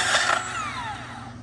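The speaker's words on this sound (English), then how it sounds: "This bandsaw makes it so easy." A bandsaw cuts through copper being sorted for recycling, a brief close whine with a dropping pitch as the blade bites, without voices.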